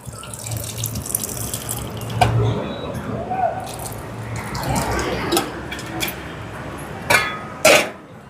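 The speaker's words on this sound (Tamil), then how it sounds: "புளியை சேர்ப்போம்." Soaked tamarind water goes into a simmering coconut-milk curry with a close wet pouring and splashing, then squelching and dripping sounds.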